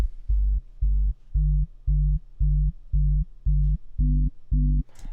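Isolated low end of a rawstyle kick drum tail, nine evenly spaced sustained low tonal pulses with the last two slightly higher in pitch, played alone and fairly quiet.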